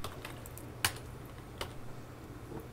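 Quick taps on a computer keyboard, scattered light clicks with one sharper keystroke, fairly quiet and close with no talking.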